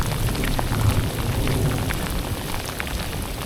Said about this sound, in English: Tell you what, the storm is close.